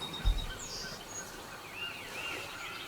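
A wild turkey gobbles once, faint and distant in open woods, a brief low burst near the start followed by quiet ambient bird chirps.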